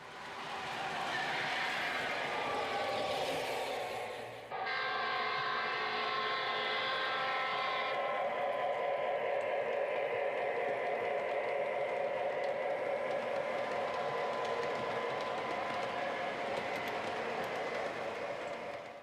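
An MTH SD9 model electric train running with Protosounds onboard sound, giving a steady, loud rumble with a rail-like hum that continues evenly for the whole stretch after a brief break near the start.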